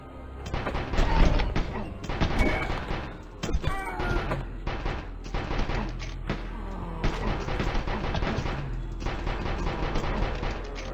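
Rapid submachine gun bursts in a zombie shooter game, crackling repeatedly over a dense, busy mix of game sounds and impacts, loud and fairly continuous throughout.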